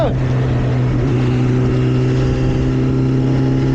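A motorcycle engine revs hard and holds a loud, steady, droning roar close by. Distinct exhaust pops cannot be made out.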